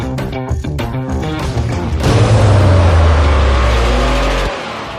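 A Porsche sets off at close range with a loud, rising engine note that swells for a few seconds and then cuts away abruptly, following a stretch of music-like tonal sound at the start.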